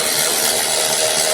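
Electric power tool running bolts down on a fourth-generation Toyota RAV4 rear brake, a loud, steady close whir lasting the whole moment without a break.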